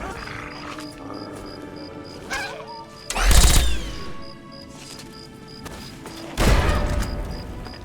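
Weapon fire in Fallout 3 comes as two loud, harsh blasts, one just past the midpoint and another near the end, over a busy in-game soundscape with a steady repeating high beep and some faint voice-like sounds.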